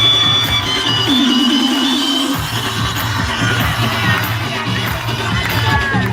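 School prize-giving audience at a Kalyan school cheering and clapping for a student, a loud continuous roar of crowd noise with shouts and whoops from children.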